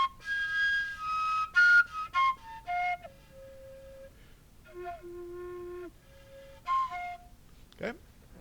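A breathy PVC pipe flute plays a series of clear, whistle-like harmonics jumping between pitches, some short and some held, fairly soft and close.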